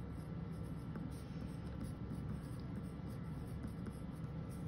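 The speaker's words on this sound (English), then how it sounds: "I pick up my pencil and write my name." A pencil writes a name on paper in a steady, soft scratching that runs the whole time, faint and close over a constant background hiss.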